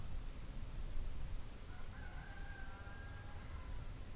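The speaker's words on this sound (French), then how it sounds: "à l'aube, les coqs chantent" A rooster crows faintly in the distance at dawn in a garden, one drawn-out call rising over a steady low background hum.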